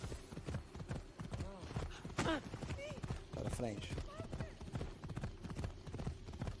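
Horse hooves clip-clop steadily at a gallop in Assassin's Creed Odyssey, close and rhythmic, under someone talking over the ride.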